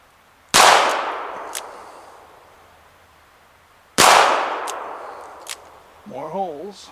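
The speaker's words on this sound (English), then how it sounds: "these little 22 caliber rounds are mostly just drilling holes in my clay birds instead of breaking them" .22 caliber rifle fires two loud, sharp shots at clay birds a few seconds apart, each with a long ringing decay, followed by a brief voice.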